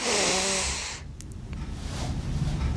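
A deep, breathy inhalation during a pelvic floor exercise rushes loudly and close for about a second, then fades into quieter breathing and soft room noise.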